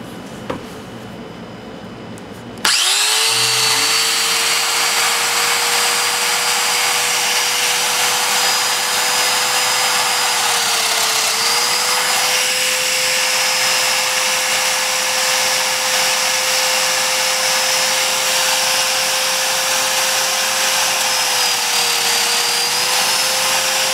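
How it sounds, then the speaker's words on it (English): A loud, steady machine roar with a constant drone and high whine, a domino joiner cutting continuously alongside a running vacuum, after a brief quieter start. "It's going to be really loud because I'm going to have the vacuum, and of course the domino machine itself is quite loud."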